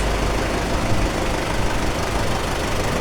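A 1990 Belarus 82.1 tractor diesel idles nearby, a steady, even low rumble with a faint knocking texture throughout and no voices.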